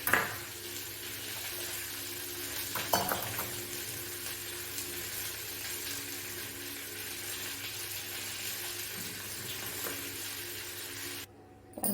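Soft scraping and gentle sloshing come from a creamy masala mixture being stirred in a pan for paneer butter masala, quiet and close, with a faint steady sizzle underneath and a brief knock near the start.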